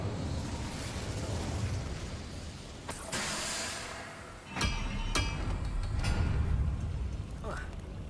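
Incendio fire spell cast in Hogwarts Legacy, a whooshing burst of flame with crackling hiss and sharp pops, followed by rumbling fiery roar amid game ambience.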